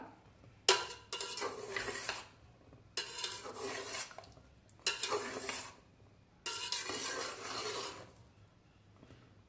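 Gulab jamun are stirred in sugar syrup with several separate bursts of wet scraping and swirling, each lasting a second or two, close and fairly quiet with pauses between and no talking.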